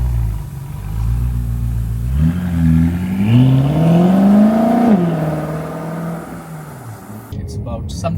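A BMW F10 M5 drives on a Singapore road in the evening, its engine note rising steadily through the gears and then settling, heard close from inside the car with someone talking over it.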